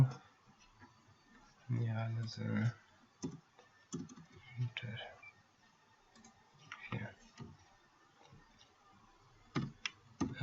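Keys tapped on a computer keyboard while typing text in Microsoft Word, heard as sparse, light clicks scattered through the clip, with a faint voice talking in the background.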